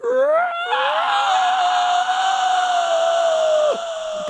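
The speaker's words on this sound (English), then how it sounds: "When you hear that scream" One person lets out a long, loud, sustained scream that holds a high pitch and slowly sags before breaking off near the end, with faint background voices underneath.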